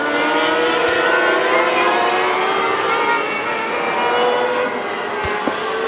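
Race cars with factory stock 599cc motors roar around Princeton Speedway during a night heat race, a loud, continuous engine drone with shifting pitch as cars pass.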